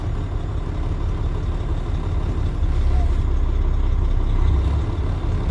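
A truck engine runs at a raised, steady idle, a constant low rumble that holds for several seconds without talking.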